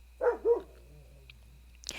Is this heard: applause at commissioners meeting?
no